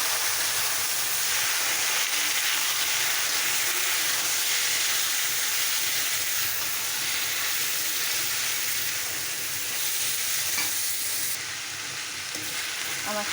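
Leafy greens fry in a pan with onion and garlic, a loud, dense sizzle and hiss heard close up and steady throughout, with no voices.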